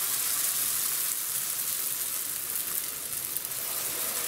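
A steady, even sizzle of flatbreads with hard cheese and herbs frying in a hot pan, continuous and fairly quiet with no talking.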